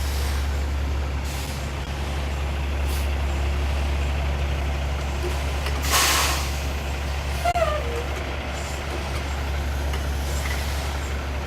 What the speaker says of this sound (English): So what you can kind of see behind me here is a really large air compressor